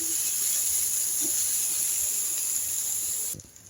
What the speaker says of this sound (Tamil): வறுக்கணும்.